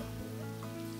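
Steady rain falls in the Final Fantasy XV video game world, a dense continuous patter with a low ambient drone beneath, heard alone without voices.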